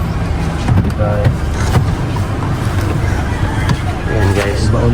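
A motorized tricycle's engine runs steadily with a constant rumble while it is steered and backed into a parking spot. Voices call out directions over the engine noise.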